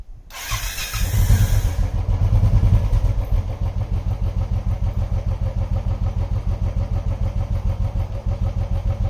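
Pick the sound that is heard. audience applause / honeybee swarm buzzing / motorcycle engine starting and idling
motorcycle engine starting and idling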